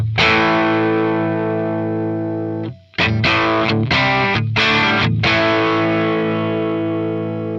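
Distorted electric guitar chords with a compressed, saggy amp feel, one long ringing chord, a brief gap, then a run of rhythmic chugging strums.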